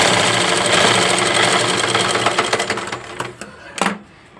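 A sewing machine stitches blouse pieces at the sleeve joints in a fast, loud rattling run that slows into a few separate bursts and then stops.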